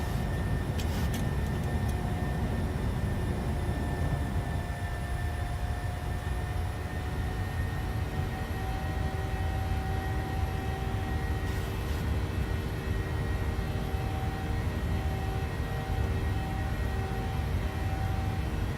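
Steady, loud roar of a PMDG 737-700 jet airliner's engines climbing after takeoff in Microsoft Flight Simulator, a continuous broadband drone with faint tonal whines running unbroken throughout, no voices.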